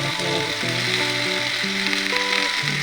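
Dhekia fern greens fry in a pan with a pinch of cumin, giving a steady close sizzle throughout while a faint humming tone wavers underneath.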